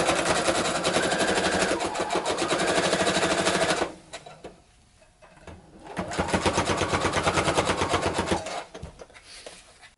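A sewing machine stitches the lining of a Battlestar Galactica jacket in two rapid, steady runs of close, loud chatter separated by a brief pause.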